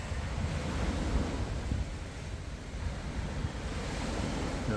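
Sea waves wash continuously onto a beach near a beach hut, a steady broadband roar of surf mixed with wind buffeting the microphone, with no talking.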